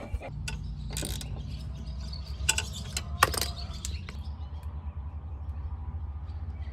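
12mm bolts are fitted to the skid plate of a Cherokee jet jon boat with a ratchet, producing scattered clicks and sharp metallic ticks over a low steady hum, close up and quiet.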